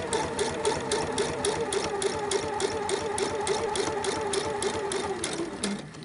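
A sewing machine stitches a very narrow edge along a shirt collar, running with a fast, even mechanical hum and regular clicking that continues nearly unbroken before easing off at the end.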